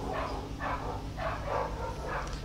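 Several dogs barking at a garbage truck passing in the rain, heard as four muffled, evenly spaced barks over a steady low rumble of rain and traffic.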